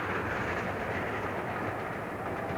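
A locomotive-hauled train rolls along a historic Victorian railway line, a loud continuous roar and rumble of running gear heard close up with no voices.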